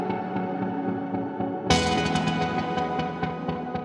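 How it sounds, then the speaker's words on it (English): Processed electronic sound in Ableton, with Shaper modulating the send of Hybrid Reverb. A dense, harmonically rich tone swells into a bright, washy reverberant burst that sustains and slowly decays. "We'll use the fourth slot of shaper to modulate hybrid reverb's send parameter."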